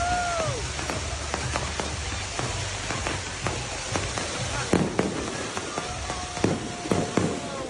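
Fireworks going off around a crowd at an outdoor display, some shells firing sideways, with a steady stream of sharp cracks and pops over a dense crackling background, plus whistling rockets near the start and end.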